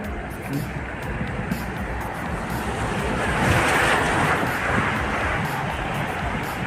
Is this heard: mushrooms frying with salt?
no